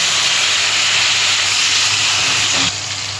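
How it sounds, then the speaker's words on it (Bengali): Tomatoes dropped into hot oil with tempered bay leaf, dried chilli and cumin give a loud, continuous close hiss of sizzling that eases slightly toward the end. "টমেটো দিয়েছি"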